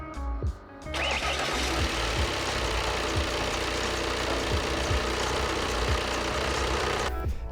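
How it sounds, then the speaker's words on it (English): A car engine cranks briefly and catches with a jump starter connected, then settles into a steady, loud idle that runs continuously to the end. "the car started without any issue with this jump starter connected to it"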